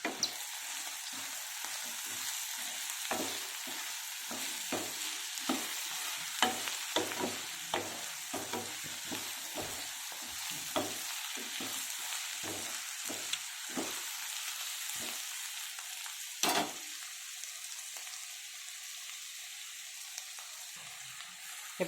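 Coriander and cumin powder being stirred into tomato rice bath in a hot pan, a soft sizzle with regular scraping spoon strokes, close by and steady for a long stretch with no voices.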